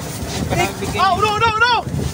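A boat motor hums under gusty wind noise as a person shouts nearby.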